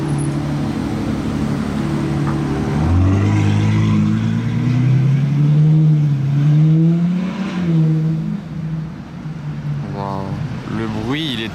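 Novitec-tuned Lamborghini arriving in Monaco, its engine revving loudly with rising and falling sweeps close by, then settling into a lower rumble as further revs climb near the end.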